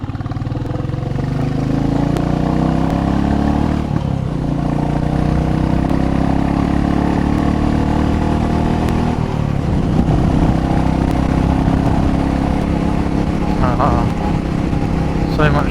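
A motorcycle rides along a rough, poorly surfaced road, its mid-pitched engine droning steadily and loudly the whole time, with wind rush and occasional jolts over bumps.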